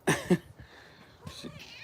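A pet cat gives two quick close meows followed by a softer, drawn-out mew, faint and alone in a quiet room.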